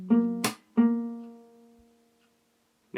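Fingerstyle acoustic guitar plays the first two chord shapes of a song, two plucked notes with a percussive slap between them, ringing out and fading into silence before a final attack, close and solo.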